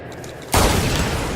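A single loud gunshot burst in Tomb Raider on PS4 with a modded controller, a sudden blast halfway through followed by a sustained roaring rumble.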